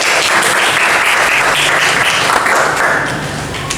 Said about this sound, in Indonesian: Tepuk tangan untuk dua orang